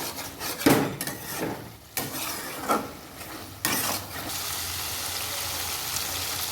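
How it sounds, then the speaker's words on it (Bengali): Potato and tomato chorchori is stirred in a pan with a utensil, giving scraping, rubbing strokes in uneven bursts over a low steady sizzle. "ভালো করে নেড়ে মিশিয়ে নেব"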